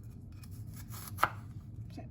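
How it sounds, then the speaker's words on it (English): A knife slices peeled ginger very thin on a board; a single sharp cut stands out near the middle over a quiet room hum, no talking. "Our ginger, let's go ahead and slice it very thin because we want this chopped very thin"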